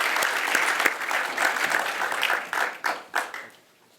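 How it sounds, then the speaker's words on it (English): Audience applauding panelists at the close of an IFHA 2016 conference session, steady dense clapping that thins out and fades toward the end. "Give them a round of applause, please."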